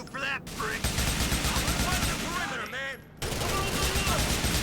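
AK rifle fire in Grand Theft Auto IV, dense rapid gunshots close and loud over a mixed game soundscape, briefly dropping out near three seconds before resuming.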